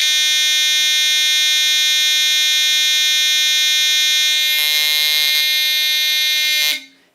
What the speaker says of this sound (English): it has such a unique sound with that black mechanical star buzzer.